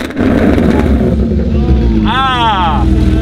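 An Audi RS3 with a loud twin-turbo exhaust rumbles steadily up close, a deep continuous roar filling the clip, with a rising whistling sweep near the end.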